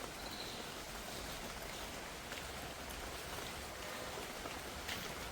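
Rain falls steadily in a mangosteen orchard, a dense even hiss of drops on leaves and ground with no pauses or voices.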